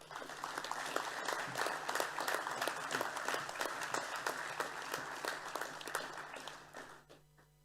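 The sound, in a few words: audience applause for the boys on stage at graduation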